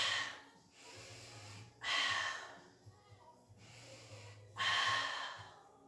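Breaths during a Pilates exercise come as several loud, close inhales and exhales in a slow rhythm, separated by quieter pauses.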